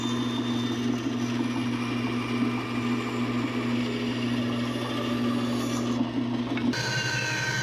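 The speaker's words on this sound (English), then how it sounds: "Then it was back to the big bandsaw for a few final cuts." A 14-inch bandsaw with a 1/4-inch blade hums steadily while making final cuts in a wooden sauna ladle bowl, a constant motor drone that stops near the end.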